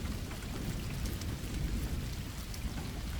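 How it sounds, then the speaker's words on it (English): Torrential rain pours steadily over a city at night, a dense, continuous wash of heavy downpour with a low rumble underneath and no voices. "a torrential rain that transformed the city into a bleak, watery landscape"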